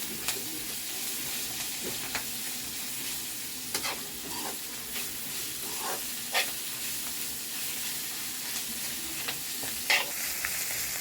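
Spices and dried red chillies being sautéed crisp in a pan, with a soft continuous sizzle and occasional clicks and scrapes of stirring, fairly quiet and close.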